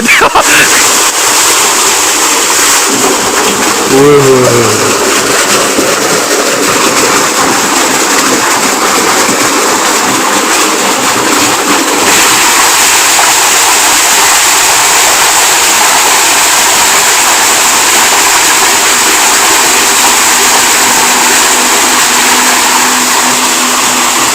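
Water from a tubewell gushes steadily in a loud, continuous broadband rush that runs the whole time while someone bathes, with a faint voice briefly audible early on.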